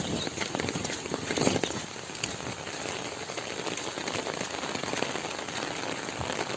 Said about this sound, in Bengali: যত দিন এগোচ্ছে, যত টাইম এগোচ্ছে বৃষ্টি ততই ঘন হয়ে আসছে।